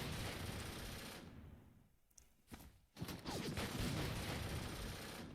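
Rapid bursts of gunfire and shelling from an artillery bombardment in the WW2 wargame Hex of Steel, a loud rolling barrage that dips briefly into near-quiet before a few sharp reports and then resumes as continuous dense fire.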